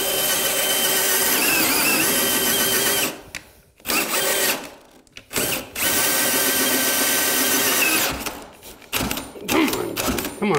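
Floor drill with an auger boring into a wood floor during renovation: a loud, steady drill whine with stops and short restarts midway, then bursts of running again.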